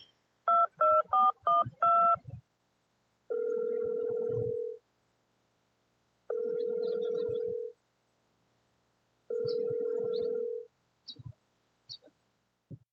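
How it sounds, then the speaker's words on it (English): Rapid burst of touch-tone dialing beeps, then three long, evenly spaced ringback tones of a phone call being placed, ending with faint clicks. "let's go ahead and give Erin a phone call"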